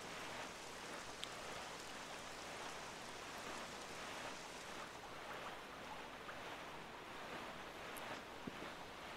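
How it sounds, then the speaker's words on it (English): Rain falling in the video game The Legend of Zelda: The Wind Waker, a continuous, faint, even hiss of downpour with occasional small ticks and no voices. "Oh, starting to rain. That's not a good sign."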